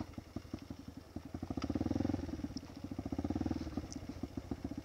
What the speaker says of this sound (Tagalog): So pwede nang angkasan yung motor.